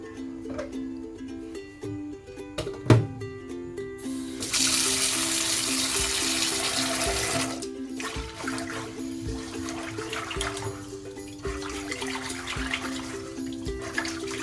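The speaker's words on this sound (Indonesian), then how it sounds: "Jadi aku mau cuci berasnya dulu sampai bersih." Rice being washed by hand under running tap water for four people, a rushing stream of water for a few seconds followed by swishing and trickling, with soft background music and no talk.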